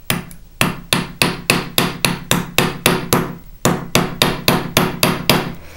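A metal hammer strikes rivet heads on a textured metal disc bracelet laid flat on a steel block, about fifteen sharp, evenly paced blows, close and loud with no talking.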